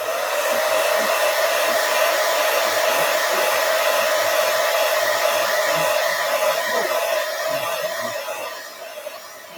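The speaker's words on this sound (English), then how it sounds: "And I'm going to dry this one as well." Hair dryer blowing steadily up close to dry freshly applied chalk paint, a loud continuous whoosh that holds for most of the stretch before easing off near the end.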